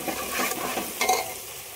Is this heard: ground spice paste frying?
yes